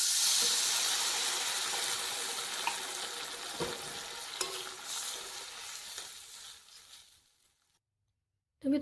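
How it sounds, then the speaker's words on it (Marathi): Water is poured into a hot pan of fried onion, giving a loud sizzling hiss that slowly fades over several seconds, with a few utensil clinks, before dying to near silence. "त्यामध्ये आपण पाणी टाकून घेऊ."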